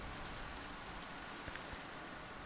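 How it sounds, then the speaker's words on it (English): Steady rain hiss from Minecraft's weather, a soft tropical shower over a mangrove swamp, a constant even wash with a few faint low thumps and no voice. "nice rain. It's like a little tropical rain, I guess."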